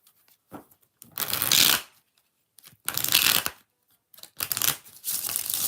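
Playing cards shuffled for a tarot reading, several bursts of crisp riffling in separate rounds with short pauses between them, close and fairly loud.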